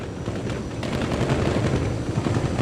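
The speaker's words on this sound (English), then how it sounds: "Popping and banging his Goldfarb's Mustang." A Mustang drag race car on drag radials pops and bangs loudly at the track: a dense, continuous crackle of rapid exhaust reports that barely lets up over a couple of seconds.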